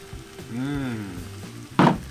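Red pepper flakes and garlic sizzling in olive oil in a pan, a soft steady sizzle with a brief tonal voice-like sweep in the middle and a sharp scrape of stirring near the end.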